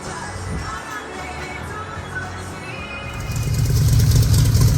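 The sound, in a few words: Shelby Cobra replica car engine idling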